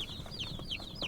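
Day-old Cornish Rock chicks just collected from the post office cheep repeatedly in quick, high descending peeps, several birds overlapping at close range.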